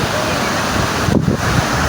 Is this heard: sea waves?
yes